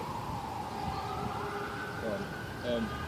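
A faint siren wails in the distance, its pitch slowly rising and falling beneath low background noise.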